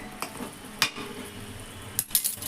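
Spoon stirring a sweet potato sweet in a pan, faint soft scraping with a few sharp metallic clinks, quiet and close with a low background hiss.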